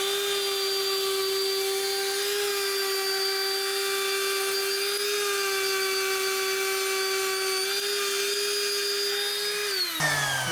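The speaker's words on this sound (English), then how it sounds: "And then you take your random orbital." A random orbital sander cleans up metal edges, producing a loud, steady high-pitched whine that holds for about ten seconds before winding down abruptly at the end.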